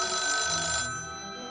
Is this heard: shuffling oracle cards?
no